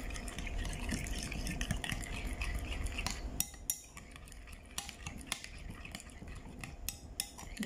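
A utensil stirs cucumber salad with yogurt dressing in a bowl, giving steady scraping and clinking close by, then a run of sharper separate taps and knocks against the dish.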